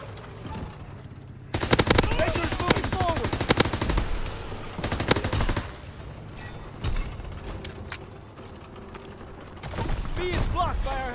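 Bursts of automatic weapon fire in Call of Duty: WWII, rapid rattling volleys mixed with single loud shots, heavy at first then easing and resuming near the end, with battlefield clatter and shouted voices in between.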